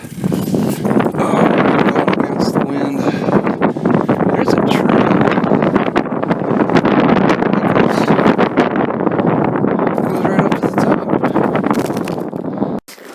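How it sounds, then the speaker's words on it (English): Wind blows hard across a hilltop trail overlooking Baker City, Oregon, buffeting the microphone in a constant rough roar with brief crackles throughout. "it's quite a windy day, not as cold as it was earlier this morning"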